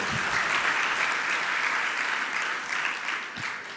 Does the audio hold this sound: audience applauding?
yes